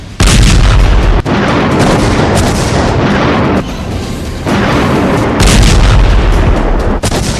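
Loud, sustained explosions and booming blasts from drone attacks in Ukraine, dense rumbling bursts filling the whole span with brief dips between them.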